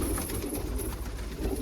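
Yellow crested saddle pigeons coo inside a loft, a soft low murmuring that runs steadily throughout at moderate volume, with no talk.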